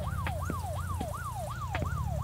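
A police car siren in the video game Pet Shop Simulator: Prologue wails up and down in a steady repeating cycle, loud and continuous over a low engine rumble, with no talking.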